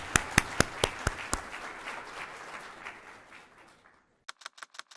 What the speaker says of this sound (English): one final round of applause for our HHS leadership